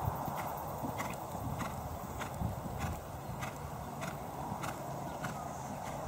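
Hooves of a young green horse being ridden during a schooling session strike the ground in a steady, evenly spaced clip-clop rhythm, moderately close, over a low background rumble.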